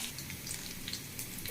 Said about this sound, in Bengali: এখন পেঁয়াজ আর মরিচ হালকা ভাজবো।